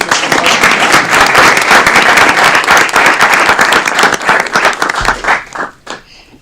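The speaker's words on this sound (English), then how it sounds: "Big round of applause for Abigail" An audience applauds Abigail at a meeting with dense, sustained clapping that carries on steadily, then thins out and fades near the end.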